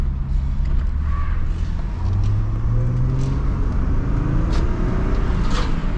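A GMC truck, just repaired after a catalytic converter fix, drives along with a steady loud engine drone and road rumble from inside the cab, its engine pitch rising gently as it accelerates.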